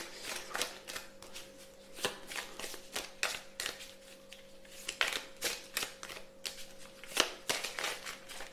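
Oracle cards are shuffled by hand, a busy run of crisp riffles and sharp slaps repeating close up and continuous, with no talking.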